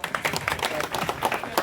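An audience at a village gathering bursts into brief, dense clapping, many hands at once, close and fairly loud for under two seconds.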